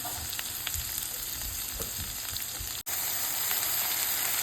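Ridge gourd sautéing in a pan as asafoetida goes in, a loud, steady frying hiss that carries on without a break, with faint stirring ticks and no speech.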